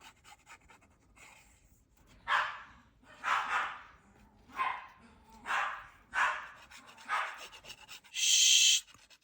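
Dogs barking in a series of separate yaps about a second apart, close and fairly loud, with soft panting and rustling between them and a sharper burst at the end.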